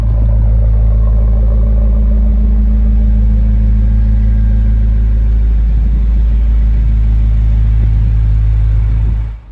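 Range Rover Sport SV with a BMW-sourced 4.4-litre twin-turbo V8, its engine and exhaust giving a steady, loud, deep rumble close by, holding a constant low drone throughout with no voices.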